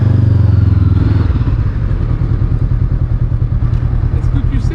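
Motorcycle ridden during an A2 licence lesson, a loud close engine rumble that revs briefly at first, then settles into a pulsing, chugging idle-like throb, with some clatter and faint talk.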